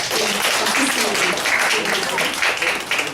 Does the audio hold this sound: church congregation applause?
yes